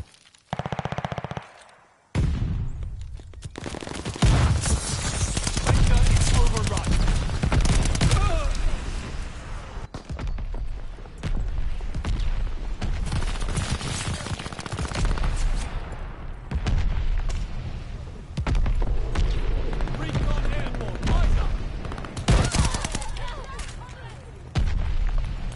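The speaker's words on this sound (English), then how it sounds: "Allies calling a mortar barrage." Mortar barrage and rapid gunfire in a PS4 war game: loud sustained bursts of automatic fire and booming impacts, dense and continuous after a brief quiet start.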